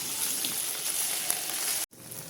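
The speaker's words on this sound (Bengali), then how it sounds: "এরপরে আমি এই ম্যারিনেট করে রাখা মাংসের পিসগুলো এই গরম তেলে ছেড়ে" Marinated chicken pieces frying in hot white oil, a loud close continuous crackling sizzle that cuts out for a moment near the end and then comes back, with no voices.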